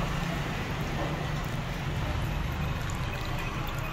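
Vinegar pours into a marinade for a Filipino coconut-milk dish, a continuous soft splashing stream that runs steadily and close without breaks.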